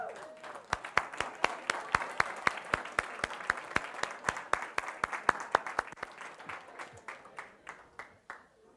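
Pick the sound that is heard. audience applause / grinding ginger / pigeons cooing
audience applause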